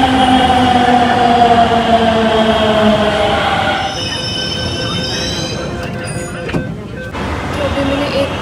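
A Delhi Metro train rumbles along with steady rail noise and tonal whines, sliding pitches fading midway as the carriage sound continues loud and close.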